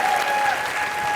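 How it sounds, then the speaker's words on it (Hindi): A studio audience at a live comedy show applauds in a dense, even burst of crowd clapping, brief and loud, with a steady tone running through it. "जोरदार तालियां हो जाएंगी"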